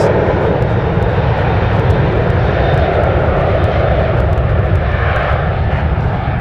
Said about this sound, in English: The 737 heading off to Seattle, flight 1340.